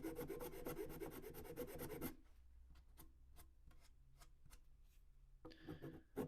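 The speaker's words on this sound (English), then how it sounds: "we're just going to give this a little, very light sanding" Light hand sanding of a wooden shoe heel, a dense scratchy rub at first, then separate short strokes, close and quiet, with no voices.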